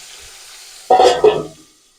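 Pointed gourd (potol) slices fry in oil in a pan, salted and without turmeric: after a quiet pause, a short loud burst of sizzling and stirring rises, then fades away within about a second.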